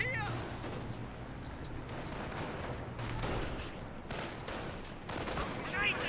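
Gunfire in the World War II strategy game Company of Heroes 1 as Wehrmacht and US troops fight: steady rattling rifle and machine-gun fire with scattered louder shots, heard under a commentator talking.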